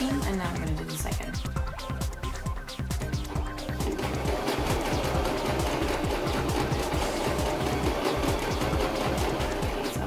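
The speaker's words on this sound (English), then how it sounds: "Okay, I've done the first seam and now I'm gonna do the second." A sewing machine stitches a seam on lace, running loud and continuous with a fast, even mechanical rattle throughout.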